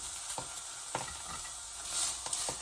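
Meat for a pot roast searing in a hot pan, a steady faint sizzle with a few brief stirring clicks and scrapes, no voices.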